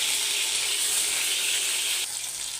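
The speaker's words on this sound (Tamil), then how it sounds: "கத்திரிக்காய் போட்டு நல்லா எண்ணெயிலையும் வதக்கி எடுக்கணும்" Eggplant sautéing in oil, a loud, steady hiss of frying close up that drops slightly in level near the end, with no voices.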